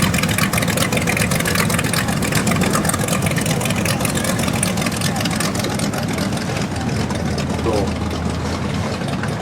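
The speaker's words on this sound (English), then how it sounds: "This boat will fly. It has a 350 horsepower engine." An antique boat's 350-horsepower engine drones steadily and loudly throughout, close by at a Lake Hopatcong boat show, with a rough continuous rumble and no break.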